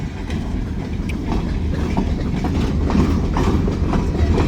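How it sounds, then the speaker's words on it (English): A freight train rumbles past nearby, heavy low rolling noise with rhythmic wheel clatter and occasional metallic clicks, steady and loud throughout. "I knew there was a train coming."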